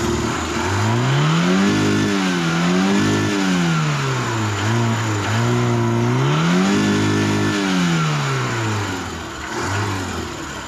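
A failing car engine runs loudly and continuously, its pitch rising and falling through repeated revs, with a rough grinding rattle like coffee beans being ground beneath the drone.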